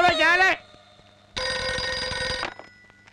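An incoming call rings on a phone in two loud, close bursts of electronic tone separated by a short pause.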